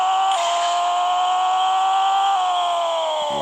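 A car engine screams at high revs, its tone holding steady with a brief dip in pitch as it shifts, loud and close with no voices.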